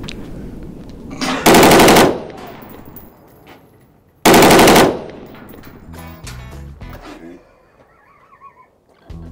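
Two long, loud bursts of machine-gun fire at a shooting outing, each lasting under a second, separated by a few seconds, followed by voices and laughter.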